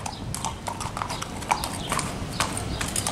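A steady run of close clip-clop hoofbeats from a stocky gray riding horse walking on hard ground, each strike crisp and evenly spaced, with nothing else around it.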